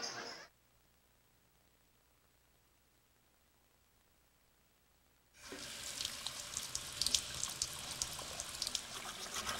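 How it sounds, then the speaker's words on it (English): Water gushes loudly from a tap into a sink, a steady bright splashing that starts after several seconds of near silence and then keeps running; a brief burst of running water is also heard at the very start. "Don't you just love running water?"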